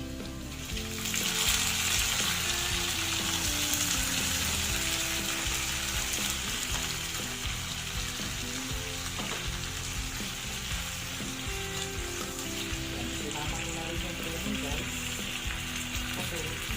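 Chicken gizzards fry steadily in a pan for adobo, a dense continuous sizzle and crackle that holds loud and close throughout with no talking.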